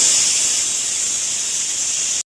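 A pressure cooker whistle on a mutton biryani releases steam in one loud, steady hiss that holds for about two seconds and then cuts off abruptly.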